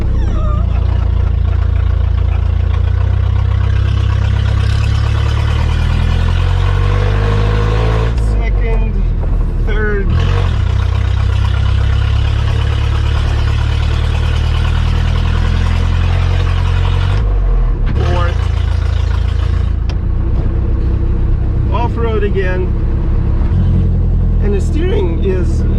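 A Citroën DS 19 Berline runs its engine while driving off-road, a steady mid-pitched hum with rising and falling revs throughout, heard under near-constant conversation inside the car.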